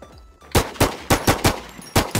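Gunfire in a first-person shooter game: about seven sharp, loud shots in short irregular bursts after a brief quiet start, no talking.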